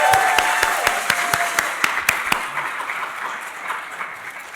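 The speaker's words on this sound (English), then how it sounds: "So let's give them an applause" An art museum audience gives a warm round of applause at the opening of an exhibition. Dense hand clapping starts at full strength, with a few sharp claps standing out, and slowly fades over several seconds.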